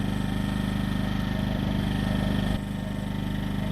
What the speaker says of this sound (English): If you don't need to run the machine with a heavy load, then you turn this switch on and it brings the engine down to a lower speed